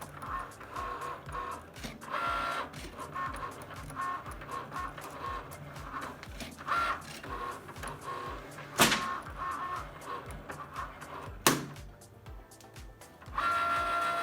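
A Cricut machine cuts a Minnie Mouse fondant design on a food mat: a close, quiet motorized whir comes in short stop-start bursts, with brief shuttling buzzes and a couple of sharper clicks.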